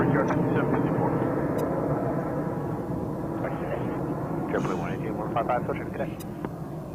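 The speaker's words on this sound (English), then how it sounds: "That would be JetBlue departing JFK on runway 31 right to Boston, Massachusetts." A JetBlue Embraer E190 jet departs JFK runway 31 right, a steady broad roar that holds loud through the whole stretch with faint overlapping voices in the background.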